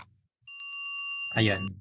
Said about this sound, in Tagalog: hanapin natin yung tunog ng bell